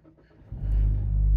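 Car interior during a drive: quiet at first, then a deep engine rumble swells in about halfway through and holds steady and loud to the end, with no talking.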